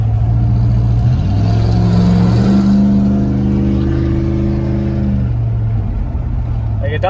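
Ram pickup truck with a cheap straight-piped exhaust revving: loud, close, droning engine note that rises in pitch, holds and then settles back to idle, with no talking in the clip.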